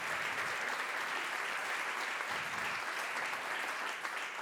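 A crowd applauds warmly after a Chepang couples' dance from Nepal. Dense, even clapping continues for several seconds with no break and no voices on top.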